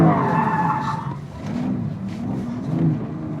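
A 410-horsepower drift car's tires skid and squeal briefly as it turns around on a road, with the engine revving underneath, close by.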